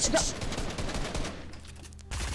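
Gunfire in the video game Fortnite: a rapid scatter of sharp shots and cracks, loud at first and then thinner, ending in a short final burst.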